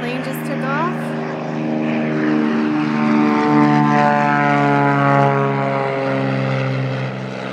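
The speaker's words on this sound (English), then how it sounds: "Another plane just took off." A propeller airplane takes off at an airfield, its engine a loud, sustained droning hum with steady harmonic tones that rises and holds close by, with people talking now and then over it.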